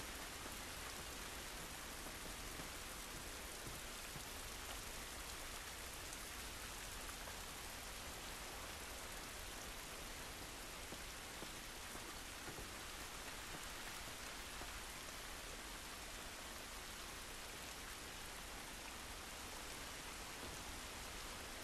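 Steady, heavy rain falls in The Last of Us Remastered as a dense, even hiss of drops on surfaces, constant and close, with no speech over it.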